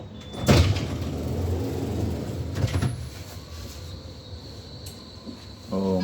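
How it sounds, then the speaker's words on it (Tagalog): A tram pulls into a station with sliding doors thudding open and shut, two sharp knocks over steady rolling rumble and hiss, and a faint tonal chime at the end. "Papunta sa end station yan guys. Train na yan."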